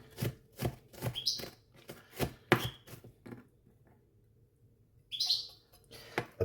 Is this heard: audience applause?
no